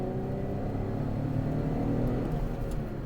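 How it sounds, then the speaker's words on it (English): Chevrolet Camaro accelerating on a winter road, heard from inside as a steady low engine drone with rising tonal whir and road rumble, no voices. "Now I'm going to speed up."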